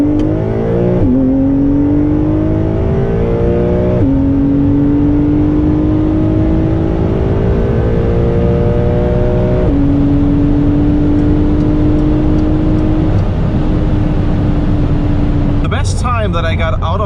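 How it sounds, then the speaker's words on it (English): A Porsche accelerates hard from 100 to 200 km/h using launch control and sport response, its loud engine note rising steadily through several upshifts, each gear change marked by a brief dip before climbing again, close and continuous. "let's now see how fast the car goes from 100 to 200"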